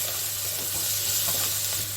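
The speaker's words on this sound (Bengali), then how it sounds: "এখন এখানে আমি দিয়ে দিচ্ছি টমেটো।" Steady, close sizzling of tomatoes frying in a pan for lemon upma, with soft scraping and stirring sounds running through it.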